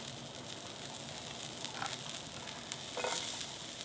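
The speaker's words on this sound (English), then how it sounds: "I'll get these sauteed just a little bit. There's my onions, red peppers, and jalapeno." Onions hitting a lightly smoking hot pan for an omelette, joined by red peppers and jalapeño, give a steady close sizzle and crackle throughout with a few louder hissing bursts near the end.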